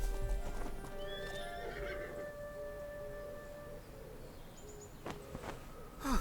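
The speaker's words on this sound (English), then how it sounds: "I don't think the horses would have survived another turn." Horses in the fantasy video game Masquerada: Songs and Shadows clop along steadily and whinny, with a loud close neigh and hoofbeats over a continuous outdoor background.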